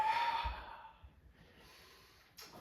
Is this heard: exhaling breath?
yes